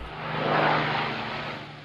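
Droning piston engines of an Avro Lancaster, the WWII bomber, roar steadily at close range with a constant low hum, swelling slightly then easing over a couple of seconds, with no talk.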